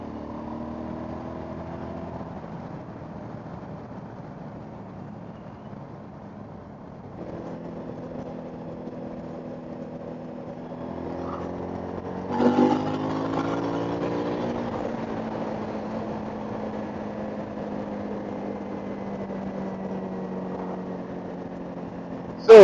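Suzuki V-Strom 1000 XT motorcycle engine pulling hard through the gears with traction control off, a steady mid-pitched drone that rises with each pull and drops at the shifts, heard close and with no talking.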